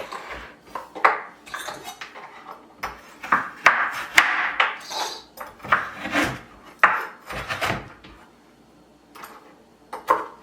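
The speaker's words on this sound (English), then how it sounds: "Now I have frozen ginger. I'm going to cut this up and throw it in here." Knife chopping frozen ginger on a cutting board while making a seaweed ginger smoothie, giving a string of irregular sharp close knocks and scrapes with short pauses between them, and no talking.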